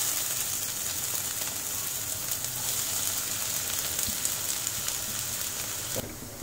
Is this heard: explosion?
no